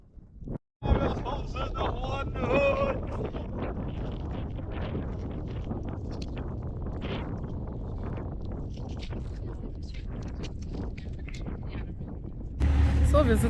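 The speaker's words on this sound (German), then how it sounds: "Wahrscheinlich ist der Wind viel zu stark" Strong wind in the Jordanian desert roars against the microphone as a dense, continuous rush with gusting swells, while voices talk underneath it.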